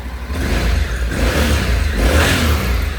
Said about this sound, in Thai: แต่เครื่องยนต์เนี่ยดีมากนะครับ